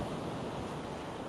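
Open sea waves washing onto the shore at Malamocco on the Venice Lido on a calm morning: a steady, dense surf wash with wind noise on the microphone, continuous and fairly loud, no voices.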